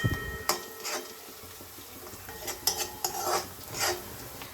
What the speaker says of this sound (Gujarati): સારી રીતે મિક્સ કરી આપણે આને 1 મિનિટ સુધી સાતળવા દઈશું